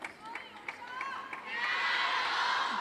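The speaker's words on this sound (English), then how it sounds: "Plenty of support for her here in the crowd. You can hear them chanting her name." A table tennis crowd at the World Championships Finals in Doha cheering for Sun Yingsha, rhythmic claps and shouts giving way to a rising, sustained roar of voices, fairly distant.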